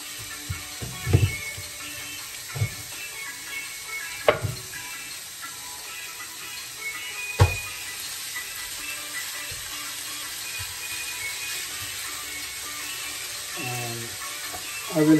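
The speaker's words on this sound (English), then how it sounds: "So I'm going to cook this. I'm going to grill it." A beef steak seasoned with olive oil, black pepper and soy sauce sizzles steadily on a grill for about fifteen seconds, with a few sharp clanks and handling knocks over the continuous hiss; no talking.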